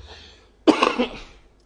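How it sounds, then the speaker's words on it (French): One close cough from a man during a French-language television broadcast, a short burst with a rough breathy tail lasting under a second, following near silence. "les téléspectateurs vont vraiment m'excuser par rapport à la toux"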